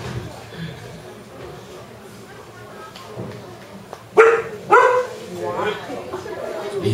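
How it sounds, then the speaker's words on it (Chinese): A dog gives a couple of sharp, close barks partway through, heard amid people talking in a room. "我们的孙狗的名字很好听，它叫林黛玉。"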